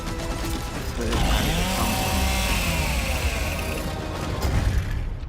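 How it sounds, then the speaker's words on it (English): Chainsaw bayonet on the Lancer rifle from the Gears of War game revs up loud and steady for several seconds, a dense mechanical whirring and ratcheting with rising and falling engine pitch, alone without talk. "Oh, gotta have chainsaw."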